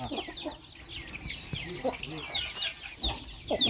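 Chickens cluck and chatter close by on a farm, with a bird calling now and then and people talking quietly in the background.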